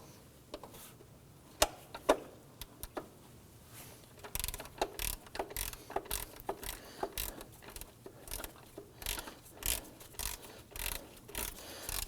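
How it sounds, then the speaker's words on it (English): A ratchet snugs down a bolt on the engine of a 2008-2011 Ford Focus 2.0L during a knock sensor replacement. A few scattered clicks come first, then a long run of rapid, close ratcheting clicks. "we'll be able to jump in there with our ratchet and snug that down"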